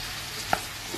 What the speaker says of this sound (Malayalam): ഇതിലേക്ക് ചെറിയ ഉള്ളി കൊടുക്കുക. നന്നായി ഒന്ന് വഴറ്റി